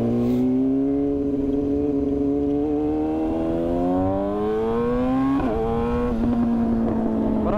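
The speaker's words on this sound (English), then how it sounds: "now I can hear how loud this damn bike is" A 2017 Yamaha R6 sport bike engine drones loudly and steadily while riding, its pitch climbing slowly with a brief rev change near the end, heard close with wind noise and no talking.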